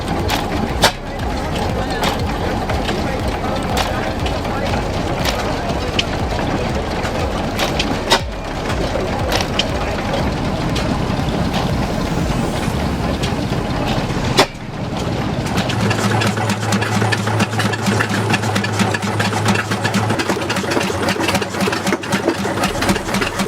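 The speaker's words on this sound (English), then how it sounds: "the homemade machine roars to life, its saw blade slicing through a large log" An old homemade engine-driven saw runs loudly with a steady chugging, knocking rhythm, and a harsher grinding tone joins in partway through as the blade cuts a large log, with occasional clanks.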